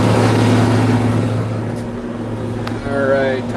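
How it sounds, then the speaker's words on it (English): Bagger tractor engine in neutral on a farm during haylage hauling, a loud steady droning rumble close by with someone speaking over it. "It's the bagger tractor"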